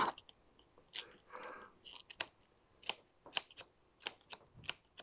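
Scissors cutting out a Batman-themed item while preparing a child's school bag, a series of short sharp snips coming in irregular bursts, close and fairly quiet, with no talking.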